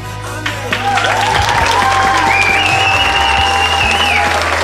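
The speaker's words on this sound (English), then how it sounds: "And as your guests continue to clap wildly and joyfully, James, I invite you to kiss your bride" Wedding guests clap loudly and continuously after the couple is pronounced husband and wife, a dense burst of applause sustained across the ceremony room.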